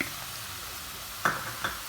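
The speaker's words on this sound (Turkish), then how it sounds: "Zeytinyağımızı tenceremize döküyoruz. Ve soğanımızı, sarımsağımızı atıyoruz." Soft, steady sizzling of onions and garlic frying in olive oil in a pot, with two brief louder clatters near the end, quiet and close with no talking.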